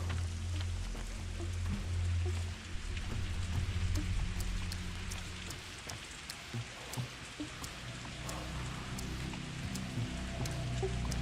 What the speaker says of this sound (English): Oh, and now it's raining!